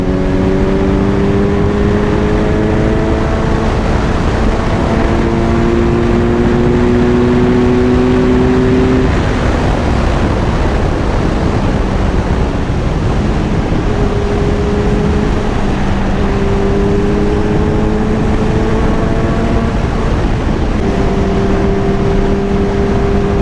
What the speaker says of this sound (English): Look at that 6th gear pull.